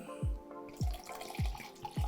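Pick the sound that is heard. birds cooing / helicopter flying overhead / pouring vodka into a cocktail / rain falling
pouring vodka into a cocktail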